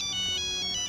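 A phone ringtone plays a bright, repeating electronic melody of quick high notes over a sustained tone, loud and continuous.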